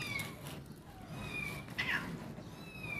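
Several pet cats meow repeatedly nearby in a kitchen, overlapping high-pitched cries over a faint background hum.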